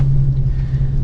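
A car drives past close by, a loud steady low engine rumble with a constant hum throughout.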